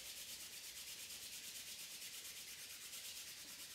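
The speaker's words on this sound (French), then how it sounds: "Ensuite, je frotte avec la main droite au-dessus de la main gauche 30 fois." Palms rub briskly together in a steady, fast rhythm during a qigong exercise, a soft, close, continuous friction hiss with no talking.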